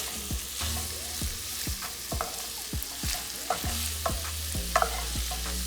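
Food being stirred in a hot frying pan while making enchiladas, with repeated scraping utensil strokes over a continuous sizzle, close and fairly loud, no talking.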